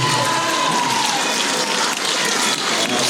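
An audience at a mariachi border folk festival in El Paso claps loudly and continuously in dense, even applause throughout.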